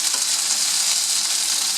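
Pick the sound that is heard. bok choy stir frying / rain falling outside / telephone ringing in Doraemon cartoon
bok choy stir frying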